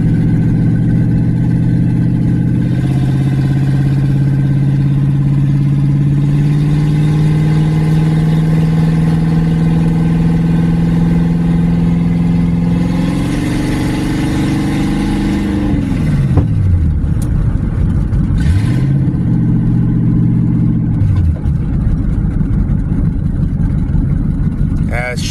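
A Cadillac engine running during a transmission test, droning loudly and close for a long stretch, its pitch rising gradually and then dipping sharply twice as it shifts, with a voice talking over it.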